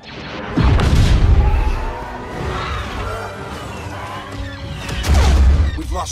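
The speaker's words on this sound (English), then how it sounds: "The sound of the weapons and the explosions and the ships" Blaster fire and explosions from Star Wars Battlefront II crackle in rapid bursts, with two heavy booming blasts standing out loud at the start and end amid a busy battle din and faint shouting.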